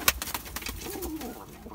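Tumbler pigeons coo softly in a loft full of birds for sale, low rolling calls close by, with a sharp flutter or click at the start and no talking.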